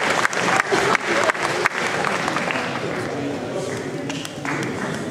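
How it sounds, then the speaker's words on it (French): Loud audience applause for prize winners at an awards event, with a few sharp claps up front blending into a continuous crowd roar and murmured chatter. "vous pouvez les applaudir"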